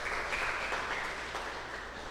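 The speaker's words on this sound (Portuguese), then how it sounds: "Ela merece um salve de palmas" A church congregation applauding during a worship service, a dense, continuous wash of many hands clapping at a moderate distance, steady for a couple of seconds.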